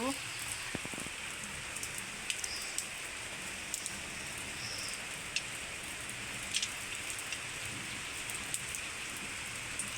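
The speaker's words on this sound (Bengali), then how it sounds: "এই দেখো কিভাবে বৃষ্টি হচ্ছে আর আকাশ ডাকছে প্রচণ্ড" Heavy daytime rain pours steadily outdoors, a dense, even hiss with scattered close drop clicks that continues unbroken from start to finish.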